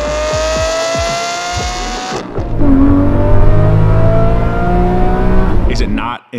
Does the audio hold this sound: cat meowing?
no